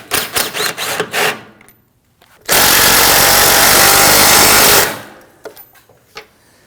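A power tool spins a control arm bolt up and tight on a Volvo XC60, a steady loud whir lasting a couple of seconds, with clanking tool handling before and after.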